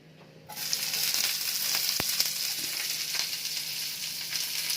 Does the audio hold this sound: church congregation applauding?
no